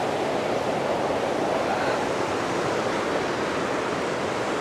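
Rushing water pouring beneath a bridge like a waterfall, a steady broadband roar that holds even and unbroken, moderately loud and close, with no voices.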